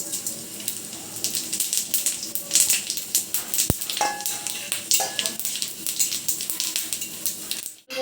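Chilli and spices fry in hot oil for a raw mango pickle, giving a steady crackling sizzle with stirring scrapes and one sharp clink, close and fairly loud with no talking.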